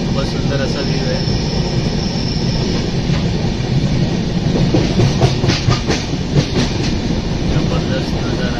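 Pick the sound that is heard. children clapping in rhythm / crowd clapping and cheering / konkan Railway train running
konkan Railway train running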